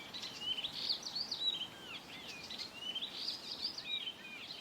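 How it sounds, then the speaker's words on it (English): Varied, loud birdsong at a seaside residency at Saari, Finland, with bright chirps and trills repeating in bursts over steady background ambience and no voices. "Those of us who travelled to Saari from other places kept commenting on the birdsong."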